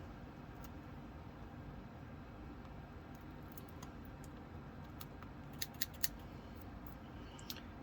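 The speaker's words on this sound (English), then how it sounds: "I think I'm just going to use scissors because this is just very small." Scissors snip through small UV resin craft pieces, a few faint, quick clicks late in the clip over a steady low background hum, with no talking.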